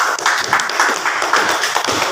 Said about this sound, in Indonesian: Kepada kelompok satu, kita berikan tepuk tangan.